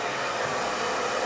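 Close, loud hair dryer airflow roars steadily while drying hair at the roots, one unbroken whoosh with no speech.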